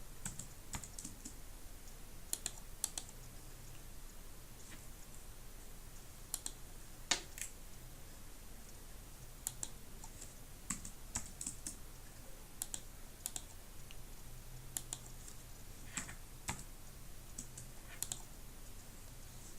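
Someone types steadily on a computer keyboard while entering data in Sage 500 software, producing faint, continuous, closely spaced key clicks with a few louder taps.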